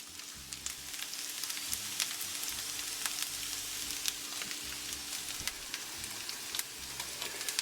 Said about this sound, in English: I'm going to get them down in here to my boiling water, and I'm going to parboil them for 5 minutes.